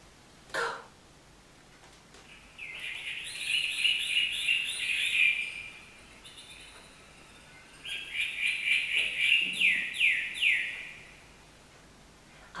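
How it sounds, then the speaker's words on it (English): A single bird cheeping in a hot, humid zoo tropical house, two bursts of rapid high chirps separated by a pause, fairly close, with a soft low background hum and a brief thump near the start. "When one bird cheeps in the hot and humid tropical house."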